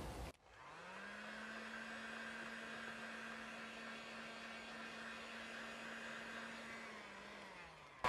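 A handheld hair dryer blows hot air onto plastic film shrink-wrapped around a glass bottle. Its steady, even whir switches on after a brief pause and runs unbroken for several seconds, close and alone.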